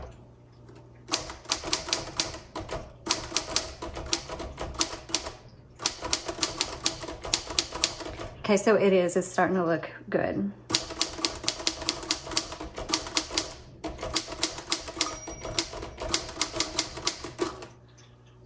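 Typing on a repainted 1954 Royal HH typewriter: rapid bursts of sharp keystrokes in several runs, each ending in a bell ding and carriage return, close and loud, with a short stretch of talk in the middle.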